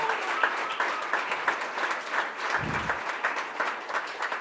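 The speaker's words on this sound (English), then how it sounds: "Can we give these folks a round of applause?" An audience applauds event organizers at a community gathering, steady dense clapping throughout with a brief low thump partway, loud and close.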